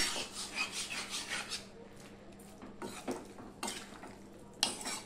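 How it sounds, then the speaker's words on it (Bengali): Roasted spices and sugar get stirred into a vegetable labra curry in a pot: quiet, rhythmic scraping strokes at first, then sparser scrapes and a clack of the spoon against the pan. "সম্পূর্ণ ভাজা মশলা আর চিনি দিয়ে আমি মিশিয়ে দিলাম"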